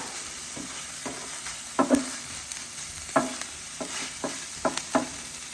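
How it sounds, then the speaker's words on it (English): Chopped beef and onions stirred together on a Blackstone 17-inch E-Series electric griddle: a steady, close sizzle broken by a handful of sharp spatula scrapes and taps against the flat-top, with no voices. "Now I'm going to come along and just mix these onions and this chopped beef up together."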